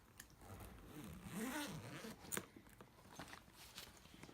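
A zipper on a Jessica Simpson orange-and-white carry-on suitcase is pulled in a few quick, faint rasping strokes, close by in a quiet room with light rustling around it.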